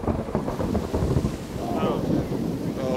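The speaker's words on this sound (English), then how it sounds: "another torrential downpour has started" Heavy torrential downpour in Washington Square Park, a loud continuous roar of rain with wind buffeting the microphone, steady throughout with no pauses.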